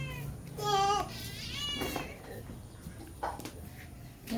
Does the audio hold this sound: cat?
yes